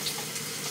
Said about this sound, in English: I think I might need this spoon, so let's just rinse it off.